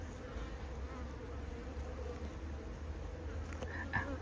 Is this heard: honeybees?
yes